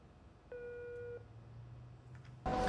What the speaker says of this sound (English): No one's answering the phone.